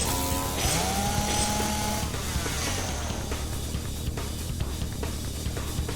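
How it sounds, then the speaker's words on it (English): A katana clashes against a chainsaw in the video game Rebellions: Secret Game: a chainsaw whines and revs, and metal rings sharply with a screeching scrape early on, all over a continuous mechanical drone without talk. "Metal screamed as the katana and chainsaw clashed, shooting sparks that blossomed and disappeared into the forest."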